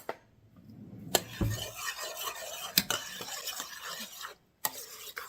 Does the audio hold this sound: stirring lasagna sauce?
yes